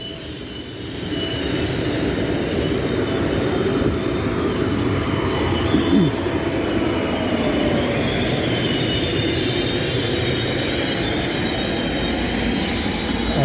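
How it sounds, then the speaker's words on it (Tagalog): An express train passing in Italy, a loud, sustained rumble of wheels on rails with faint squealing and clatter, building in the first second and then rolling steadily past close by, no voices. "Mabibilis po yan na express train na yan."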